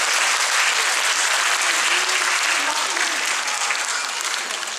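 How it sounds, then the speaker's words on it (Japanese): Loud, dense audience applause fills the large hall of Hanno Civic Hall after a yosakoi dance team performs at a charity event for earthquake recovery. It stays steady and unbroken from start to finish, tapering only slightly at the end. "もう一度大きな拍手をお願いします。"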